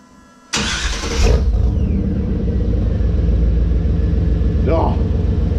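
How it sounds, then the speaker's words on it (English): A 1994 truck fitted with a new glass pack exhaust cranks and fires with a loud burst, then settles into a steady, deep, rumbling idle that continues close and loud to the end. "I'm ready to fire up and see what she sounds like."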